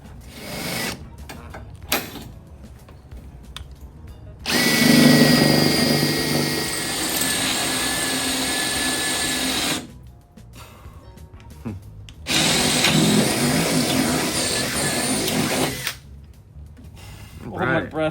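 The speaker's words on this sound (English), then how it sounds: "let's get those holes drilled." A power drill bores holes in the metal Storm body of a 2013 gas EZGO golf cart, two long steady whining runs with quieter gaps and brief voices between them.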